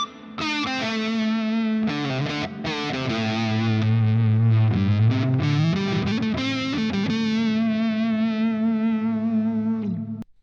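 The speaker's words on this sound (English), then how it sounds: "just a cool ambient sounding lead tone" An electric guitar plays a sustained, singing lead line through a Friedman amp plugin with ambient delay. The notes are distorted and slide and bend over about ten seconds before fading, loud and close, with no voice.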